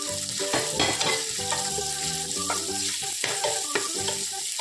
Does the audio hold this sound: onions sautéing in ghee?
yes